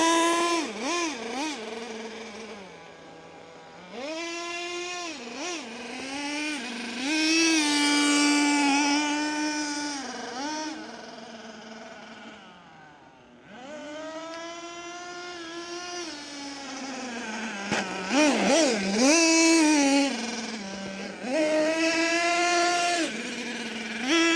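Small RC nitro truck engine, a buzzy high-pitched whine that idles steadily and then rises and falls in several revving sweeps, heard up close with no talking.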